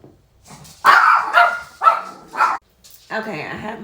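Several dogs barking in short loud bursts, four sharp barks close together in the middle, with a voice heard talking near the end.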